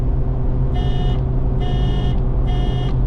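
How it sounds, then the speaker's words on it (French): A tuned car's horn honks three times in even, half-second blasts, loud and close over a constant engine rumble. "Je suis pas convaincu par le klaxon"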